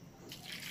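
Water is poured into a cooking pot holding kochur loti (taro stolons) with a little salt, a brief, soft splash and trickle that swells slightly, near and faint, with no talking.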